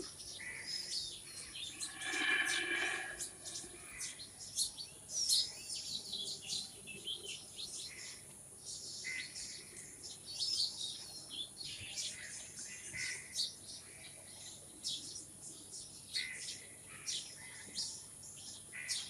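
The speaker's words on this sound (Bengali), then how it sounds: "পাখির শব্দ চারদিকে" Birds chirp and tweet on all sides in a steady outdoor chorus, with a faint insect-like buzz running underneath.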